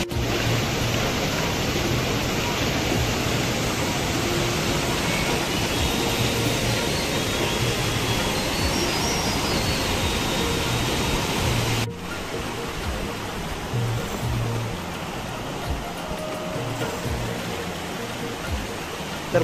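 The Sarsai waterfall roars with a full, continuous rush of falling water, loud and close, its steady wash dropping slightly in level partway through; no talking is heard.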